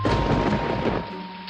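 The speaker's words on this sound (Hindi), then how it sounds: "अचानक बारिश शुरू हो गई।" A sudden thunderstorm rumbles with a loud, dense roll of thunder over rain that cuts off after about a second, leaving a quieter hiss with a faint steady tone beneath.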